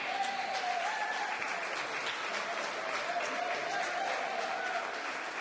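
An audience at a Celebration of Education event gives a steady, even round of applause, heard from a distance and fairly soft, with a few voices faintly mixed into the clapping.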